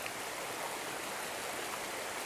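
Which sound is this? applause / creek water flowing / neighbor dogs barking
creek water flowing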